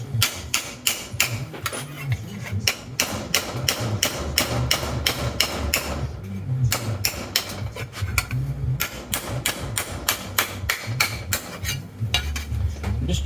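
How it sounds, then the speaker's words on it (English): Rapid hammer strikes on sheet metal over an anvil ring out in steady bursts, a dense rhythm of sharp clanks with brief pauses between runs. "I'm just trying to kind of hammer over it just to start creating that bend that I need."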